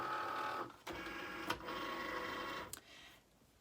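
A Cricut Maker cutting faux leather, giving a soft mechanical whir and buzz of the moving carriage with a few small clicks, fairly quiet and running alone before it winds down.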